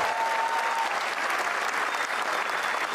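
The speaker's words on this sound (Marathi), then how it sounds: "अरे कडक एका टाळ्या वाजायच्या" A stand-up comedy audience breaks into loud, steady applause, a dense wash of clapping hands that holds at full strength for about three seconds with no voices over it.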